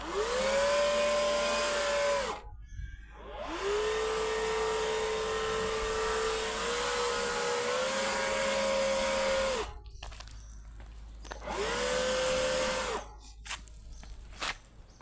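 A loud leaf blower whines steadily in three long bursts, cutting out briefly between them, close by with no talking, in Cyprus.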